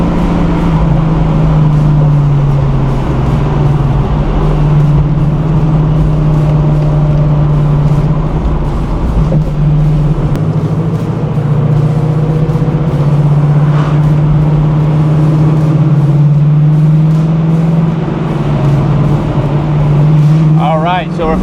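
A 1971 Chevrolet Nova SS pro touring build with a 375 hp engine and four-speed manual cruises along a country road, its engine a steady loud drone with slight pitch shifts from start to finish.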